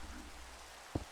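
Rain in Minecraft patters as a faint, steady background hiss with a low rumble underneath, broken near the end by one short soft thump.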